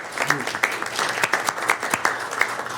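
A room of attendees at a transportation authority board meeting breaks into sustained applause, a dense wash of many hands clapping at once with a few sharper claps standing out nearby.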